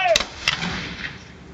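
Historic musket volley fired by soldiers at Fort Snelling, two sharp loud cracks close together followed by a long fading echo, no talking.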